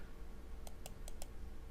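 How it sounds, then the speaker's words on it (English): Four crisp clicks of a computer keyboard's delete key tap out in a quick, even run, close and fairly quiet over a low room hum. "I clicked on the delete key"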